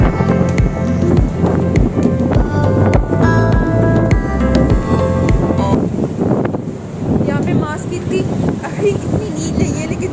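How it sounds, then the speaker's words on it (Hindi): Strong, cold wind blowing outdoors near a ferry in Turkey buffets the microphone with loud rumbling gusts, while someone talks over it throughout. "सर्दी में बहुत सर्दी हो रही है, हवा बहुत तेज़ चल रही है"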